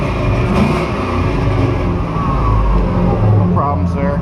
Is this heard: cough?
no